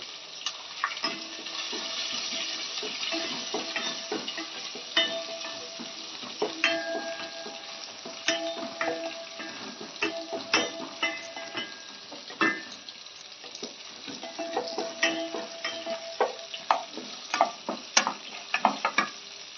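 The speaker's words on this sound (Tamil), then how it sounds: "அப்புறம் அதுக்கு பெரிய வெங்காயம் போடணும் வதக்கணும்" Big onions sautéing in a pan for chicken kuzhambu, a steady moderate sizzle with frequent scraping and clicking stirs of a spatula against the pan, all without voices.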